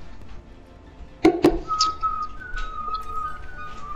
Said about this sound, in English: Who the fuck is playing the flute in their mic?